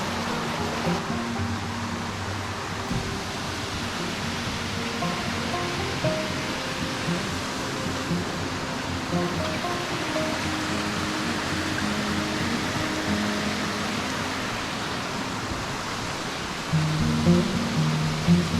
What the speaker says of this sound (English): this trail is just one waterfall after another.